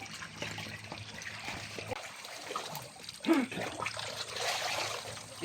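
Sulfurous water from the Almendral hot springs trickling and splashing as a sample is collected in a small bottle, with intermittent pouring and gurgling, a brief louder splash midway, and outdoor background noise.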